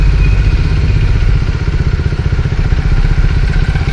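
A motorcycle engine chugs loud and close in a steady mid-pitched rumble as the clutch is slowly let out and the bike begins to roll, with light mechanical clatter and no voices.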